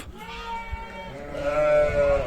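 Sheep bleating at feeding time as mixed feed of beet, silage, alfalfa and oats is poured in front of them, several loud overlapping bleats in a close, busy pen.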